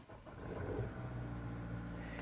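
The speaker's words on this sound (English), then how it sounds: "first step is that you start your car" A car engine idles steadily after starting, a continuous low rumble with a brief rev near the start, close by and alone.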